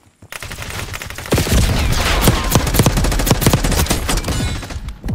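Gunfire in Call of Duty Black Ops 6: dense bursts of automatic weapon shots crackle rapidly and loudly, with overlapping rounds and impacts forming a continuous fusillade.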